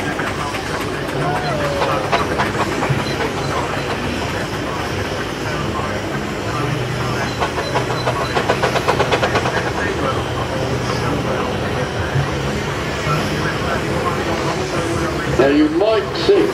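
A steam roller rumbles past in a steam engine show parade around an arena, a continuous chugging and mechanical clatter with a low steady hum, while a commentator talks over it.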